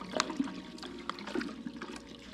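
Water trickles and splashes as it runs through a mash tun into a boil kettle while brewing an all-grain breakfast stout; a soft, steady flow with small bubbling bursts.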